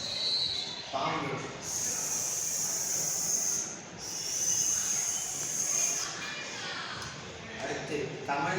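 A human voice imitates a snake's hiss, a sustained breathy hissing repeated in two or three long bursts with brief gaps.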